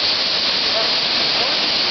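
A waterfall roaring in a steady, dense hiss of rushing water, close and constant for the whole moment with no breaks.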